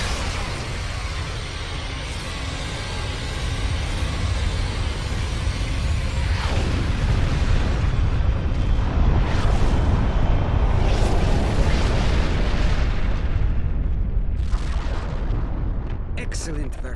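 Starship weapons fire and heavy explosions in the space-combat game Star Trek Online at the Battle of Procyon V, a dense continuous rumble of blasts and bursts, loud and close throughout.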